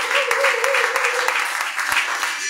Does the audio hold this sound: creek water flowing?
no